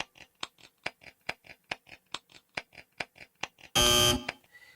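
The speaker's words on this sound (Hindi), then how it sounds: "इस बार टीम जॉन की तरफ से पहला बजर दबा है" Quiz show buzzer pressed by a team in a family Bible quiz round, one loud sustained electronic buzz near the end after a steady series of regular ticking clock beats.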